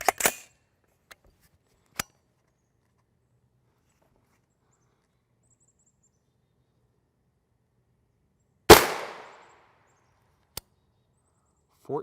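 A single sharp gunshot from an L7A1 round striking a UHMWPE helmet, loud and sudden with a short decaying tail, framed by a few faint clicks and knocks in otherwise quiet surroundings.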